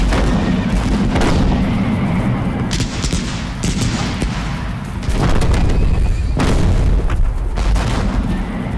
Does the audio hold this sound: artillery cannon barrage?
yes